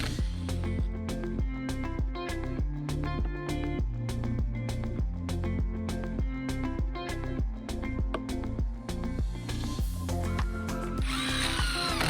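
A power drill drives screws into scrap 2x6 wood in a rapid series of short, loud bursts with brief gaps between them, close by and with no voices.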